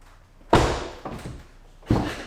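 A Corvette C6 door, just fitted with a new actuator, releases with three sharp thunks: a loud pop of the latch, a softer knock, then another firm clunk, all close by.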